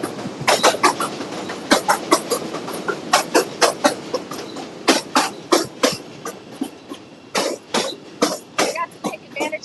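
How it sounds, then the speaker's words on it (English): A train passes close by on an urban sidewalk, producing loud, irregular clattering bursts of wheels over rail joints that rise and fall in a rough rhythm, with a brief cough heard nearby. "It'll be a little loud on us up here as we walk past the train."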